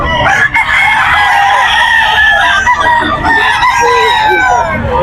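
A bullstag rooster crows loudly and close at a busy pet market in Bocaue, its long cries repeated over other fowl calls and clucking throughout.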